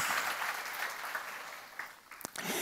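A church congregation at a seminar on the Books of Kings breaks into steady, sustained applause with the sound of many hands clapping together. A few sharper claps stand out near the end.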